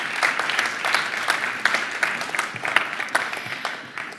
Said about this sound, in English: Let's applaud one last time our 6 big stars